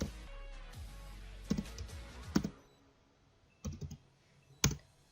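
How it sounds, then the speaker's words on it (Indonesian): A computer keyboard clicks faintly in short clusters of keystrokes, a few taps at a time with quiet gaps between, as a command is typed into Maple math software. "untuk penyelesaian menggunakan aplikasi Maple, yang pertama kita ketik restart"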